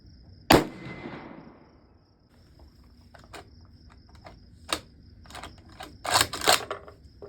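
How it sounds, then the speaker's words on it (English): A rifle fires a single Atomic 7.62x39mm 220-grain hollow point round without a suppressor, one sharp loud crack with a short decay, followed by scattered metallic clicks and rattles of handling. "5-round mag cycle without the suppressor, just to see how this sounds"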